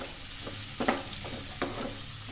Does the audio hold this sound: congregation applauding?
no